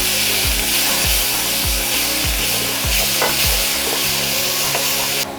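Ground coriander, Kashmiri chilli and dried chilli powders with a splash of water sauté for shahi paneer, a steady close sizzle cut by regular rhythmic scrapes of a spatula across the pan, with no voices.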